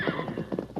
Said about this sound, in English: Kimasabi, look at horse. He's half wild, Tonto.